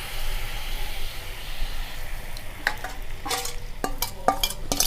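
A milk mixture for monda sweets cooks over a low gas flame in a kadai, with a soft bubbling hiss beneath a run of sharp scraping and clanking spatula strokes that grow busier near the end.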